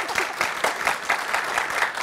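An audience at a live talk session claps steadily and fairly densely, with the sound filling the room in even rhythmic bursts and no other sound on top.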